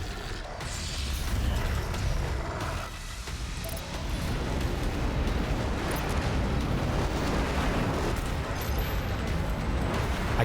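A grenade explodes amid the chaotic combat of the PC shooter Doom Eternal, with a deep rumbling blast over mechanical clatter and sustained loud noise, with no voice over it.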